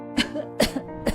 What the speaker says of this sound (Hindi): हे भगवान, ये खांसी कब खत्म होगी?